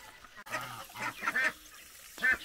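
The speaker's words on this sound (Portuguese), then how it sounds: "vou mostrar para vocês a filhotada, né, de marrecos, patos e blacks" Young ducklings, teal and duck chicks calling nearby, with a few uneven honking, quacking calls rising from soft background noise.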